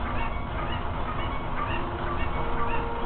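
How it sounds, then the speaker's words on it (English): Cucco chickens in the video game Zelda: Ocarina of Time squawk in repeated short honking calls, blended into a steady wash of game sound with no talking. "Why ain't that chicken attacking you?"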